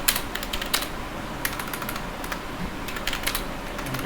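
Steady, fast typing on a computer keyboard while C code is written, a close run of crisp key clicks with a few sharper taps standing out, with no talk over it.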